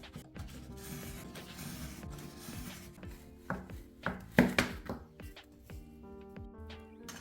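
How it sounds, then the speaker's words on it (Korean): A cutter knife slicing deeply through the board of a miniature retro stove, a run of quiet, uneven scraping and chopping strokes up close, with a few sharper cuts partway through. "얇은 칼로 칼집을 내준 후 커터 칼로 깊게 잘라줍니다."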